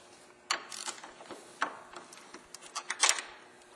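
A hand ratchet backing out an 8mm bolt at the headlight of a Ford Taurus, a series of close metallic clicks and short ratcheting bursts in irregular rhythm, no speech over them.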